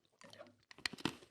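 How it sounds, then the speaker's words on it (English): Crunchy peanut butter Christmas cookies are chewed close to the microphone, with a few quiet crisp crunches and soft mouth noises near the end; no talk during it. "I love that you guys are just going to listen to us noshing on this episode."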